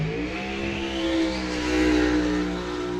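A drag racing car with a trick chassis built in Wisconsin and a Ford engine pulls hard down the strip, its engine note climbing and swelling as it accelerates, heard alone at moderate distance.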